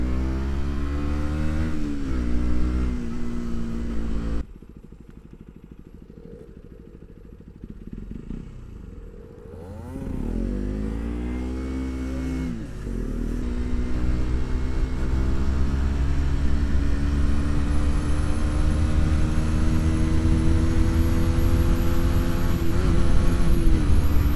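A Honda RC125 race motorcycle engine roars loudly and steadily while riding on track, dipping briefly before climbing again with rising revs through gears, close and continuous with no talk.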